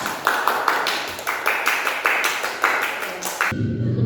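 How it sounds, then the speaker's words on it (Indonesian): Classmates clap for a student named Al in a classroom, a sparse, uneven patter of claps from a small group, fairly close, ending abruptly in a brief low rumble. "tepuk tangan untuk Al"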